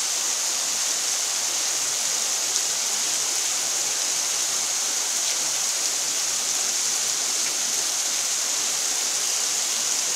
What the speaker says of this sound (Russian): Такой дождина, ливень, тут все мокрое